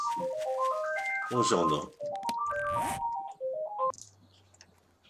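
A phone in a 7 Days to Die gameplay session plays a melodic ringtone of stepped electronic notes repeating in phrases, with clicks and a person speaking briefly over it.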